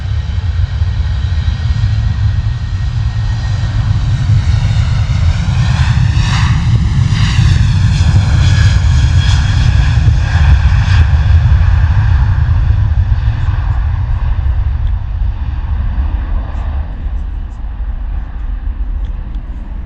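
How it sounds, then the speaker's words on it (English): A TUI Boeing 787 Dreamliner takes off with a loud, sustained jet roar and layered whining tones that peak as it rotates and passes close, then slowly fade. "Beautiful rotation there from the TUI Dreamliner."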